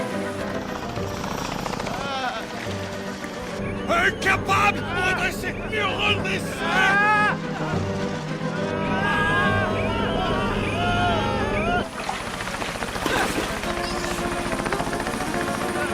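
A cartoon helicopter drones loudly and continuously with a whirring rotor, accompanied by music and bursts of other effects, while voices speak over it.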